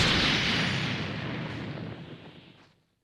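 Key Explosion, a Dragon Ball Xenoverse 2 attack, bursts loudly and rumbles. The heavy blast decays steadily over about three seconds and ends in silence, with no voices.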